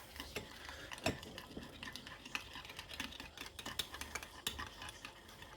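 Carp fishing boilie mix is stirred in a bowl, making continuous quiet scraping and soft clinks at a close, even pace, with no one speaking.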